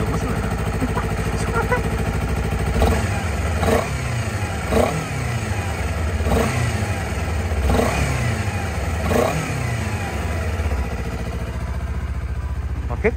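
A Honda CBR250RR motorcycle engine starts and is revved in several short, rising blips over a steady idle, close by and loud, with roughly six distinct rev bursts.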